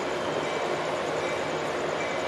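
An MRS SD43 diesel locomotive leading a steel-industry freight train arrives with a loud, steady turbocharged engine roar and rail rumble, close and continuous.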